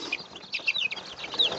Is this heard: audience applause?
no